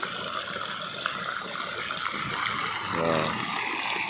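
Water runs and splashes continuously from a resort pool shower, a steady hiss like a shower spraying, with a brief voice near the end.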